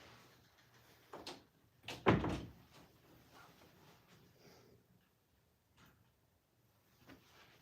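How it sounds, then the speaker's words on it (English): A door is opened indoors with a single muffled thunk and rattle, then quiet with a few faint knocks and shuffles afterward. "I need to open the door."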